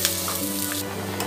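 Onion with ginger-garlic paste frying in a pan gives a brief, steady sizzle under a low background hum.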